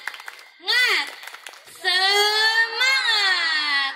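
An audience at a National Santri Day celebration performs a rhythmic clap-and-chant routine: a few sharp claps, then loud group voices shouting the chant in long sustained calls.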